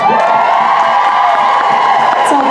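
A Supernatural fan convention audience in Denver cheers and whoops loudly, a steady, dense crowd roar with scattered applause and shouts throughout.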